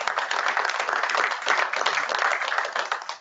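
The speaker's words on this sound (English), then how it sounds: "please join me in a round of applause" Audience applause for a speaker at an academic talk, a dense and steady round of clapping that stays loud throughout.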